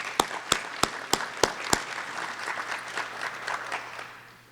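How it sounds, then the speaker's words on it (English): Attendees at a city commission workshop in Gainesville, Florida applauding, opening with a few sharp, evenly spaced nearby claps before a looser spread of clapping builds and then fades out, over a low steady hum. "So applause to the commission for that."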